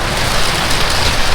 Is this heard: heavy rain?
yes